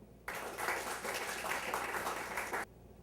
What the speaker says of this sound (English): Please give a round of applause for Nadia.